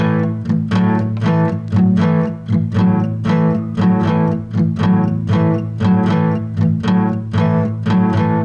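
Acoustic guitar playing a boogie-woogie pattern, a steady chugging run of evenly spaced strums that alternate between two shapes, close and bright, with no talking.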